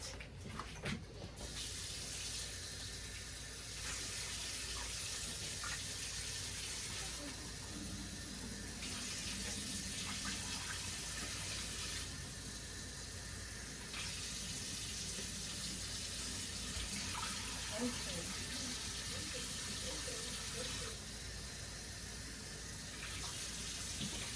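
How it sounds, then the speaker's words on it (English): Cold tap water runs into a jar of sauerkraut being rinsed, a soft, steady gushing and splashing that pauses and resumes several times as the jar is filled, dumped and refilled, with no talking. "fill up the jar with cold water, dump it, put more water in, shake it a little bit, dump it, and do it 3 times."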